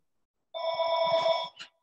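An electronic telephone ring chirps once in a short, bright warbling burst that stands alone in an otherwise quiet room.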